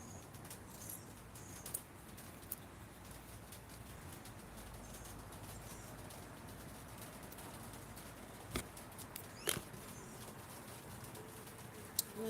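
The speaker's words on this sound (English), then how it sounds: "And there's the rain again." Rain pattering steadily outdoors as a soft, even hiss of fine drops, with a few sharper taps and clicks scattered through it and nobody talking.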